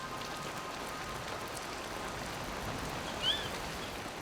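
Steady rain falling in the Ugandan wild, a dense continuous patter with an even hiss, with a brief faint bird chirp partway through.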